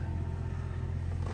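A 2004 Mercury Marauder with over 300 hp sits with its engine running, a close, steady low rumble that holds even without rising into a clear rev.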